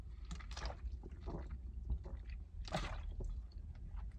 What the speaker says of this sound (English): One sec, water break.